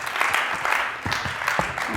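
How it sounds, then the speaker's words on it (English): A room full of people applauding, dense steady clapping that is moderately loud throughout. "Big round of applause."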